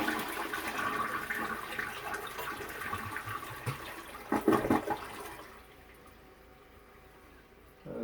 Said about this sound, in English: I'd say the toilet's functional again.